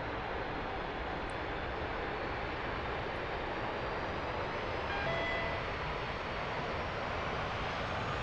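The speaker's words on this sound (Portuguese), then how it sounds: "Motor subindo." A Dassault Mirage 2000C jet engine in DCS World runs during a night ramp startup, a dense, steady roar held at a constant level with no talk over it.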